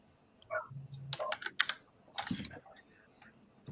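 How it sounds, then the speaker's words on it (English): Clacky keyboard typing in quick bursts, keys struck hard and close, with a voice murmuring faintly underneath. "What did that keyboard ever do to you, Tommy?"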